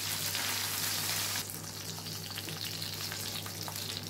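Parrot fish pepper fry cooks in a pan with a continuous close sizzle, loud at first and then settling into a softer, even frying hiss.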